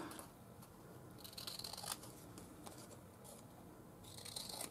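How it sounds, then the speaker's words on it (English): Scissors cut off the unprinted end of a fabric banner in a series of crisp snips and slicing rustles, close up over a steady background hiss, with no voices. "I'm just going to cut that part off"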